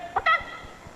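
During a close-up magic trick, a chicken gives a brief pair of squawky clucks, close and clear, followed by faint low sounds.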